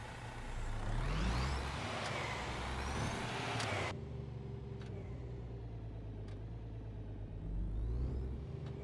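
A truck in On The Road Truck Simulator drives along a road with a continuous low engine rumble and road noise, shifting pitch as it moves, with a hiss of air brakes early on.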